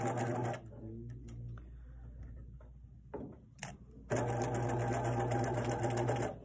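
A sewing machine runs in loud, fast, steady bursts while stitching draped fabric and backtacking, pausing briefly with faint clicks and handling noises between runs.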